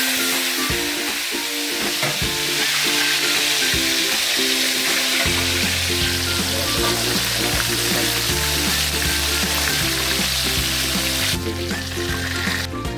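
Chicken pieces for orange chicken get a second fry in hot oil, producing a loud, continuous, close sizzle with a low steady hum underneath that shifts in pitch partway through.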